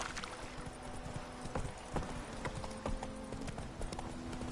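Roach the horse trotting in The Witcher 3: Wild Hunt, a steady run of clip-clopping hoofbeats close by and moderately loud over faint ambient background, with no talking.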